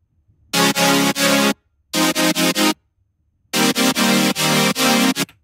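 Future bass synth chord layer, compressed and EQ'd, playing three groups of bright, gated chord stabs in a choppy rhythm separated by short silences.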